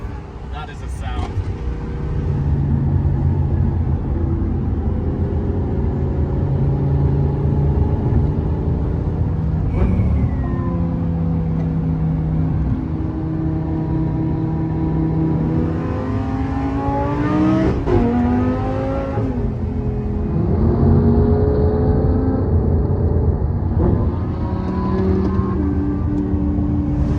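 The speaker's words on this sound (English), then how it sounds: "I'm really impressed with how that exhaust has made that Senna sound" A McLaren Senna with a new exhaust revs several times, each loud rising howl sweeping up then dropping back to a rumbling drone, with voices talking over it.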